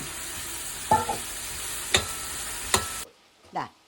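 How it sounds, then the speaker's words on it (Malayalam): Cauliflower pieces frying in hot oil while being stirred, a continuous close sizzle with three distinct spoon scrapes against the pan, then the frying cuts off into quiet with a short vocal sound at the end. "വറക്കണത് കണ്ടോ?"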